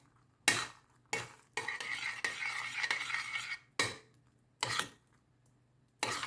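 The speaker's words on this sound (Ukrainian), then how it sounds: "І це все знову перемішуємо" Spoon stirring spiced pumpkin with cinnamon in a pan, heard as several separate bursts of scraping and clatter with short pauses between them, moderately loud and close, with no talking.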